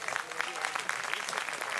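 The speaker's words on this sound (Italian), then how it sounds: "Facciamoci un applauso allora" Applause from an outdoor concert crowd gathered on a park lawn, a quick steady patter of many hands at moderate distance, with voices mixed faintly underneath.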